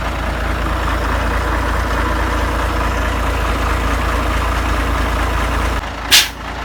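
A mobile crane truck's engine idles steadily with its PTO engaged, a low, constant rumble that stays even throughout, broken near the end by a brief sharp hiss like an air release.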